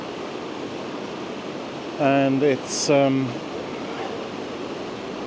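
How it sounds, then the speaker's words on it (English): Water pours steadily over the weir across the River Dee beside the Old Dee Bridge in Chester, a broad constant rush beneath a man's brief nearby speech. "Now this is the weir across the River Dee"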